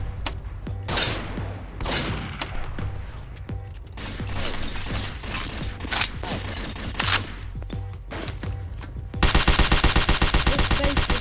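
Rapid automatic gunfire from a gun in Garry's Mod DarkRP crackles in close bursts over several seconds, then ends in a loud, fast, evenly spaced stream of shots, with no talking.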